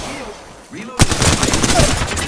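Automatic gunfire in a battle royale video game erupts as a sudden loud burst, then continues as rapid rattling shots with game effects in the background.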